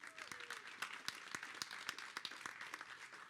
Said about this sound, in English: Yep, you can clap for that.